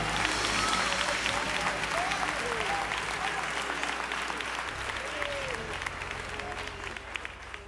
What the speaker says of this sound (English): Clap your hands and bless the Lord.